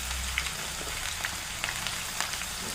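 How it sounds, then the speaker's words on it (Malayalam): Onions frying in a pan of hot oil, a steady close sizzle with scattered small pops and crackles throughout, no talking. "അതിനകത്ത് എണ്ണ ഒഴിച്ച് എണ്ണ ചൂടായിട്ടുണ്ട്. നമുക്കിതിനകത്തോട്ട് ഉള്ളിയിട്ട് വഴറ്റിയെടുക്കാം"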